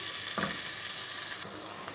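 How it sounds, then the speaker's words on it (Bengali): Softened vegetables for mattar paneer cooking in a pan after a splash of water, giving a quiet steady sizzle and bubble with a couple of brief spoon scrapes, close by, with no voices. "এবার একটু জল দিয়ে দিলাম, একটু ফুটিয়ে নেব"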